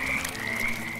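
A frog croak sound effect from the pachinko video game Pureya, a steady buzzy electronic croak lasting about a second, loud and alone with no talking.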